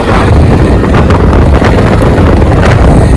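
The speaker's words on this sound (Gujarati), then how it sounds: "પવન શક્તિ બહુ જાજુ છે" Strong, steady wind roars and buffets the microphone throughout in dry open country, a loud constant rush with no voices.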